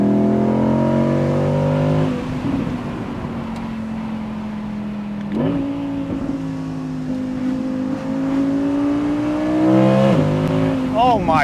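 An Audi R8 V10 Performance Spyder engine revs high and loud, pitch rising and falling through several shifts, with a sharp upward rev burst near the end.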